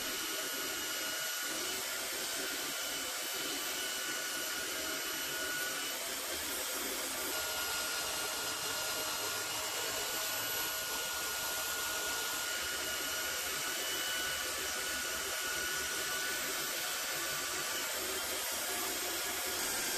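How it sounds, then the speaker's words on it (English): Timber being sanded smooth along its curves for a Pocketship boat build, a steady, loud, continuous abrasive whir that holds without pause for the full length. "Next, I sanded the timber to make the curves nice and smooth."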